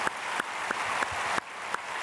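A church congregation at a Sunday service claps in unison, a steady run of sharp, evenly spaced claps over a soft room hum, moderately distant.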